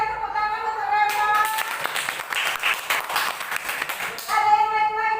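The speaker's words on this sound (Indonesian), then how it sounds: "Kita berikan tepuk tangan untuk Reva" A short burst of clapping from a classroom of students, lasting a few seconds, framed by brief talk before and after.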